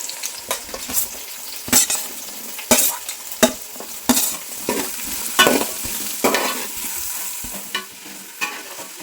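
Small shallots drop into hot oil for a homemade beef roast and fry with a soft sizzle, broken by sharp, close clacks of a spoon scraping and stirring the pan at irregular intervals.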